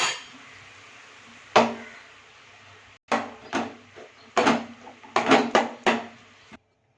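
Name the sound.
stirring cooked rice with amla mixture in a pot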